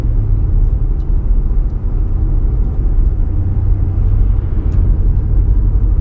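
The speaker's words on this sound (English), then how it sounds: "There's a little bit of traffic, but not much." Road traffic rumbles past on a winter day near Bass Harbor and Southwest Harbor, Maine, a loud, steady low roar that lasts the whole time with no one speaking.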